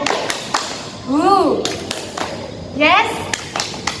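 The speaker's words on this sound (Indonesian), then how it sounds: "Tepuk konsentrasi." A group performs the 'tepuk konsentrasi' clap routine in a counseling group session: sharp, separate claps and taps land in a rhythmic pattern, mixed with chanting and talking voices.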